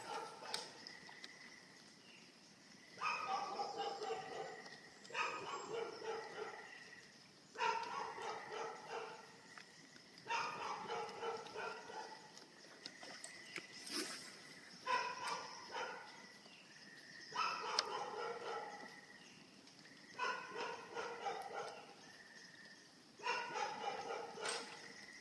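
A dog barks outdoors near a fishing spot, in repeated bursts of several barks with short pauses between, moderately distant and fairly faint.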